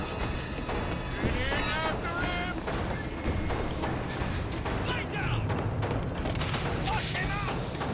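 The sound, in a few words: gunfire from enemies in the video game Bioshock Infinite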